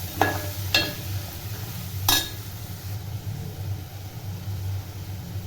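Peas and carrots being stirred into tomato masala in a pan for veg pulao, with a few sharp utensil scrapes over a low steady sizzle, close and fairly quiet.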